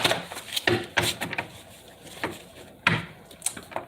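Soft riffling and slapping of tarot cards, several brisk shuffling bursts with brief pauses between, close by and moderately loud, no talking.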